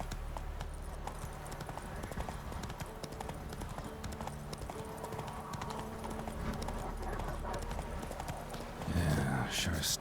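Rhythmic clip-clop of the horse Roach galloping in The Witcher 3, steady hoofbeats close by under game ambience and speech, ending in a louder burst of sound.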